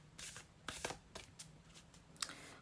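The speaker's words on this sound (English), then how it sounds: "let's pick up your first deck and shuffle with intention." A deck of cards is shuffled for a tarot-style reading, with several quick riffling bursts and soft card snaps, faint and close, with no talk.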